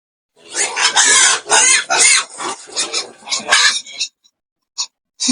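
A hungry pig eats noisily up close, with loud bursts of grunting, snorting and squealing in quick succession that stop abruptly, followed by a couple of short snorts.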